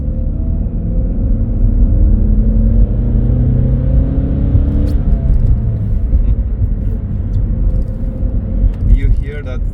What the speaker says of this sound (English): You hear that it's a chain driven engine by revving it.